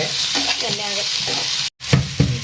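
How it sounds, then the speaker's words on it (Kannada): Sliced ridge gourd fries in a pan for a chutney, giving a steady sizzle broken by rhythmic stirring strokes and one brief drop-out before the stirring resumes. "ಈಗ ನಾನು ಕಟ್ ಮಾಡ್ಕೊಂಡಿದ್ದು ಹಿರಿಕಾಯಿ ಹಾಕ್ಕೊಳತ್ತೇನೆ ನೋಡ್ರಿ ಇನ್ನು ಚಲೋ ಫ್ರೈ ಮಾಡ್ಕೊಂಬಿಡ್ತೇನೆ"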